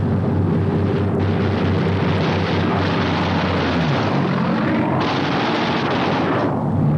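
Japanese fighter planes diving on B-29 bomber formations in aerial combat, a loud continuous roar of aircraft engines and rumbling blasts filling the whole stretch with shifting pitch as planes pass.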